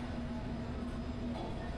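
Padma Express intercity train running at night between Dhaka and Rajshahi, a steady rumbling roll with a sustained tonal whine, heard from inside, fairly quiet and unbroken.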